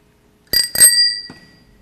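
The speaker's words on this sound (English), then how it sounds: "bicycle bells," A bicycle bell rings two quick close dings, with a bright metallic tone that lingers and fades, followed by a faint small knock.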